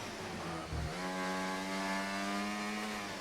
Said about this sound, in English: Again, not a great engine noise. It sounds more like a Mercedes than an Alpine.